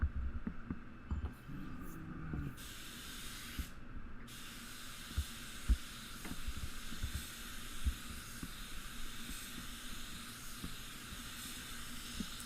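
A spray gun lays a single medium coat of paint inside a spray booth, giving a steady close hiss that drops out briefly twice early on, then runs continuously over a low booth rumble.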